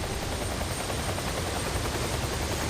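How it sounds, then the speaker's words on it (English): A Coast Guard rescue helicopter's loud, steady rotor thrum and turbine roar fill the whole stretch, close overhead with no letup. "It's a Coast Guard rescue helicopter, and its pilot has spotted the Adorinos."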